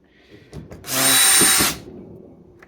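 Cordless power driver with a JIS bit driving screws on a Makita DUR181 weed eater during motor replacement: one short burst of whirring, near and loud, with small handling clicks around it.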